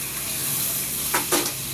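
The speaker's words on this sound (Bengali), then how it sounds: "ভাজা ভাজা হচ্ছে রসুনটা।" Garlic frying in a pan with salt: a steady broadband sizzle throughout, with two brief louder bursts near the end as it is stirred.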